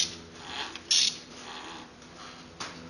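A ratchet works a size 14 socket on a Chinese bicycle engine, giving a few short, sharp clicking bursts spaced apart, close but quiet, with no talk.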